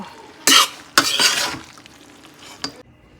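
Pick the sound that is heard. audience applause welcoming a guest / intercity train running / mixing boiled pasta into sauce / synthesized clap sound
mixing boiled pasta into sauce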